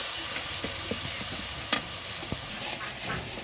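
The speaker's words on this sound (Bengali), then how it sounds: "হলুদ দিলাম, একটু নাড়াচাড়া করে নিই।" Turmeric and spices stirred in a hot pan for a silver carp curry, a steady frying sizzle with soft scrapes and a few sharp clicks of the spoon against the pan.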